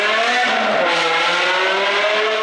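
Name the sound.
BMW E60 M5 engine revving through F5 full exhaust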